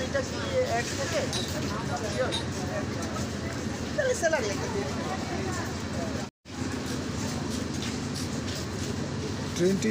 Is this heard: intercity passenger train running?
yes